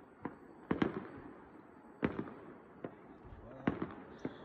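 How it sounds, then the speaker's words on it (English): New Year 2022 fireworks burst at a distance, about eight sharp, fairly faint bangs at irregular intervals, some in quick pairs, over a quiet background. "Now, fireworks to begin the new year of"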